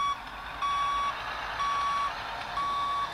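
Truck reversing alarm in a trucking simulator game: four evenly spaced steady electronic beeps, each about half a second long, over a constant engine hum, with no talking.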